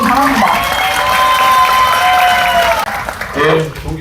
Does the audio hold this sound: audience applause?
yes